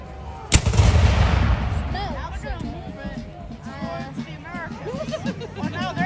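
A single sharp cannon blast from a Guilford Courthouse battle reenactment booms loud near the start, followed by a rumbling tail and scattered gunfire crackle, with a commentator talking over it.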